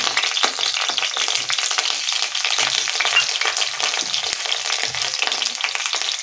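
Cumin seeds, curry leaves and a chopped green chilli crackle in hot oil as a loud, dense, continuous sizzle heard up close.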